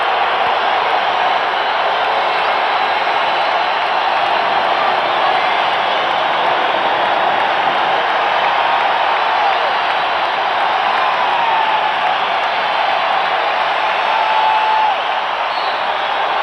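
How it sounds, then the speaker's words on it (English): Chicago Stadium crowd roars for the Bulls during the 1989 conference finals game against Detroit, a sustained, loud wash of cheering and applause that holds steady throughout with no clear voices standing out. "This crowd trying to get the Bulls going right here."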